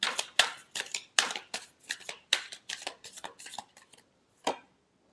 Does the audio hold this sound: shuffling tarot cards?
yes